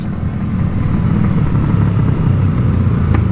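Loud, deep exhaust roar from modified motorcycles, a Yamaha Aerox and a Raider, rumbling steadily and close for the whole stretch with no talk.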